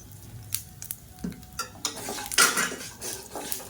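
Dried red chillies and asafoetida tempering in a pan, with light sizzling and frying under scattered metallic clinks of a spoon stirring against the pan, close and moderately loud.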